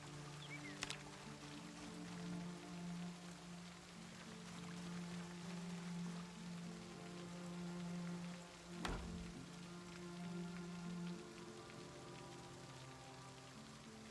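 Rain falls in a video game, a soft, continuous patter and hiss over a low steady hum, with a sharp click near the start and another thump partway through.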